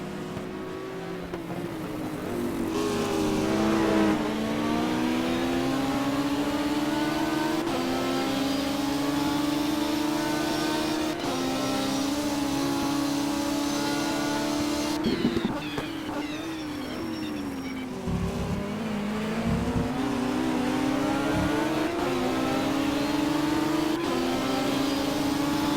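Race cars at Donington, including a Ford GT, a Ferrari 458 and an Audi R8, hold a continuous high-revving engine whine that rises and falls through gear changes and passes, loud and close throughout.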